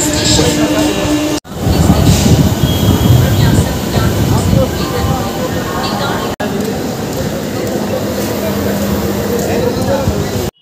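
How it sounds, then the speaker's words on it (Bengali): A train at Santragachi railway station on the Kolkata to Digha route, heard as a steady, loud rumble of station and rail noise throughout, with brief dropouts and people talking over it. "ফাইনালি বন্ধুরা, আমরা চলে আসলাম সাঁতরাগাছি রেলওয়ে স্টেশনে।"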